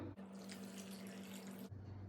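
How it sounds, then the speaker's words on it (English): Water poured from a tap over thin potato slices in a home kitchen, a steady rushing stream lasting about a second and a half, close and alone. "add some water on top of them,"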